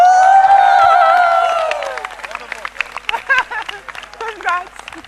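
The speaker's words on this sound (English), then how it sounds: "everybody, give a big cheer for yourself." A children's audience lets out a loud, high-pitched collective cheer that fades after about two seconds into scattered excited voices and chatter, close and lively.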